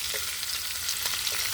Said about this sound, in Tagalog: Gisain natin yung bawang.